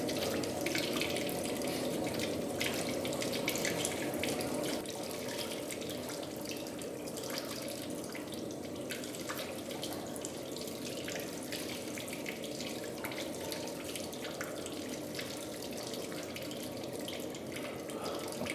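Beer flowing through a plate heat exchanger in a brewery, a steady rushing, splashing stream of liquid that holds constant throughout, fairly loud and close, with no voices.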